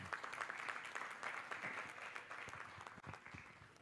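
Welcoming applause from an audience greeting a newly introduced panelist, a quiet, steady patter of many hands clapping at a distance.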